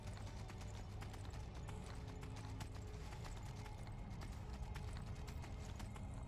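Rapid, rhythmic hoofbeats of a horse galloping in Skyrim pound steadily throughout, close and prominent over a dense background of game sound.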